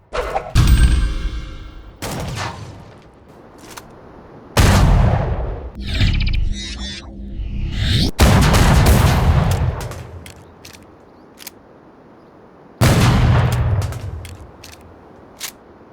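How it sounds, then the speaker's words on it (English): Heavy video game shotgun blasts go off one after another with pauses between, each a loud booming crack trailing into rumble, with crackle of buckshot hitting scenery in between. "The sound of buckshot hitting the scenery is great too."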